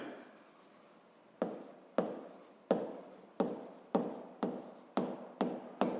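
A pen writes out a physics solution for a seventh-grade pressure exercise, heard as eight or nine separate close strokes set at a steady rhythm, each one a short scratchy burst that fades quickly, with no talk over it.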